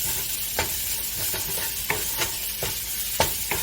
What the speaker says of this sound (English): I'll saute my onions until they're brown and soft.